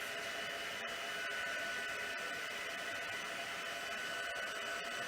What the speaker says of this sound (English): I'll just let my heat gun warm up for a second or two, and then we'll just go in and melt our embossing powder